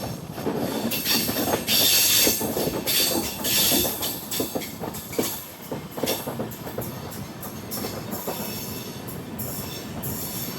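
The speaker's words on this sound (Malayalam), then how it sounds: "തൃശ്ശൂർ റെയിൽവേ സ്റ്റേഷനിലേക്ക് എത്തുകയാണ്." An Amrit Bharat Express train rolls into Thrissur railway station. A continuous loud rumble of carriages is overlaid by bursts of high metallic wheel squeal and rhythmic clicks over the rails.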